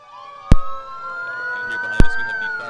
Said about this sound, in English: It's getting really loud. Love the sirens.